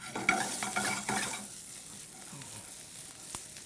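Diced chorizo dropped into a hot pan over a gas flame, sizzling and being stirred, with a brief burst of scraping and frying that quickly settles into a quieter sizzle.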